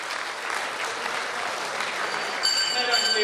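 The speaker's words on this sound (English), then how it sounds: "we can give him a round of applause" Audience applause at a special lecture by a senior counsel in Trinidad, a steady wash of many hands clapping from a seated crowd, fairly loud and continuous throughout.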